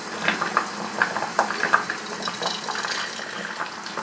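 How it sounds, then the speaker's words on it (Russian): Hot homemade apple juice is poured into a hot sterilized glass jar, a steady splashing trickle with small gurgles and clinks, fairly close and quiet. "Наливаю в горячую баночку аккуратненько."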